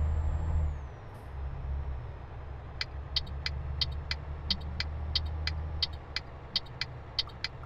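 A truck in Euro Truck Simulator 2 slowing down, with a low engine rumble and a brief air-brake hiss, followed by a steady run of sharp ticking clicks like an indicator.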